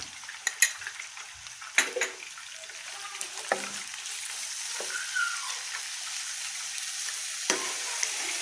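Garlic paste sizzles and crackles steadily in frying oil in a pan, with occasional clinks and scrapes of a utensil stirring, no talking.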